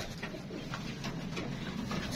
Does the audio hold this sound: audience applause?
no